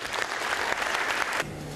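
An audience at a Uganda Investment Authority convention in the UK claps in a brief, dense burst of applause that cuts off abruptly, leaving a low hum.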